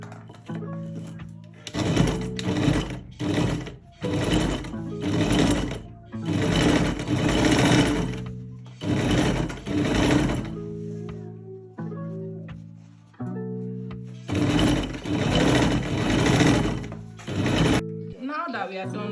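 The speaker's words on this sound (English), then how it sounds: "So now we will go to the sewing machine to sew." A sewing machine stitching fabric for a cargo pocket, repeated close whirring bursts of several seconds each, separated by short pauses.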